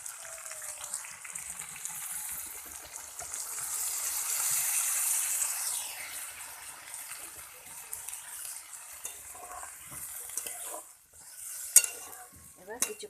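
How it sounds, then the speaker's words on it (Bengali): Beans and potatoes being stirred in a frying pan with chilli powder, a steady scraping and sizzling that swells in the middle, with a few sharp clinks near the end. "এবার আমি ভালো করে নেড়ে দেবো।"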